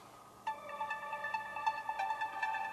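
A layered synth melody doubled one octave (12 semitones) higher, bright stacked tones entering after a brief quiet start and playing a steady phrase of sustained notes at moderate loudness.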